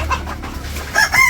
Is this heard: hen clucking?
yes